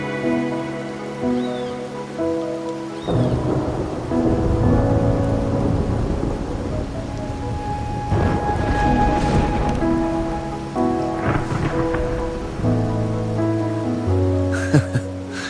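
Steady rain and rolling thunder in the video game Wuthering Waves, a continuous wet wash with deep rumbles, layered under sustained musical tones.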